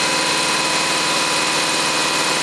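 A four-cylinder engine running on only two cylinders, a loud, close, continuous drone with a rough, pulsing idle and no voices.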